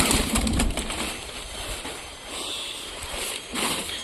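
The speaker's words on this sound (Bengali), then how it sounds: "এই দেখো গাইস, 2টো বুনো পায়রা চলে এসেছে আমাদের এখানে।" Two wild pigeons coo close by in a pigeon-keeping spot, their soft calls mixed with rustling and bursts of brief wing flapping or shuffling, louder at the start and again near the end.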